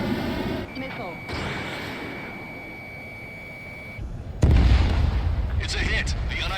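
In the video game Ace Combat 7, a steady high warning tone and engine rush give way to a sudden loud, booming impact as a missile strikes an aircraft, leaving a rough, crackling roar afterward.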